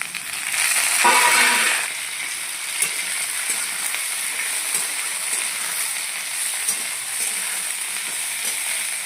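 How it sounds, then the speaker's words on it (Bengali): Vegetable stems with a chilli are stirred and fried in a little oil, a bright continuous sizzle that swells loudly early on, then settles into steady frying with occasional scrapes of a spatula and no voices. "ডাঁটাগুলো হালকা তেলে নেড়ে চেড়ে নিয়েছি"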